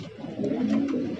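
Pigeons at a large farm of foreign breeds, including a mukhi pigeon, giving a soft, close, low throaty coo that rises in the middle of the clip over a faint background.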